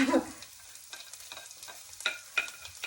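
Asparagus and shrimp stir-fry in a hot pan, scattered scraping clatters over a low steady hiss, fairly close.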